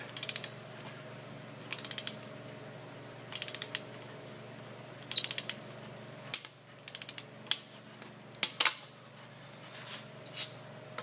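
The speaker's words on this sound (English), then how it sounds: "you can hear the anchor pulling the plate down to the concrete" Quick bursts of metallic ratcheting clicks repeat in short clusters as a wrench torques an anchor bolt, pulling a cabinet plate down to concrete, over a steady low mechanical hum.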